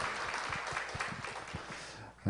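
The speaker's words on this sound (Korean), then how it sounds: "우리 하나님께 영광의 박수 올려드리겠습니다." A church congregation gives a round of applause during a Sunday worship service, fairly quiet, scattered clapping from a room of worshippers that tapers off after about two seconds.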